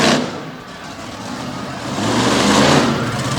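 Chevy Silverado-bodied truck on a former Kohler chassis at a Bloomsburg, PA track event, its engine roaring steadily through a vertical wheel stand, loud and swelling toward the end.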